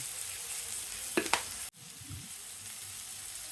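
Chopped broccoli and chili flakes sautéing in a pan, a faint steady sizzle with a couple of brief utensil clinks, then a short cut and a low sizzle continuing.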